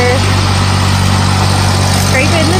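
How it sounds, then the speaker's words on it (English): Homestead tractor running nearby while scraping a driveway, a loud, steady engine drone with constant low rumble throughout, no gaps. "here they come on the tractor"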